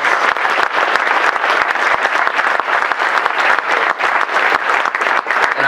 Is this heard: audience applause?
yes